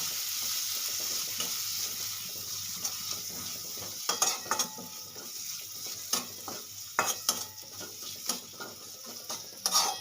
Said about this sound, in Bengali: এবার আমি 1 মিনিট মশলাটা সুন্দর করে কষিয়ে নেব।